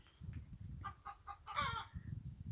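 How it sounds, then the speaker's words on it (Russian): Hens cluck loudly and agitatedly in a backyard coop, a quick run of sharp squawking calls rising to a drawn-out cackle, with faint low background rumble. "Очень курочки у меня орут."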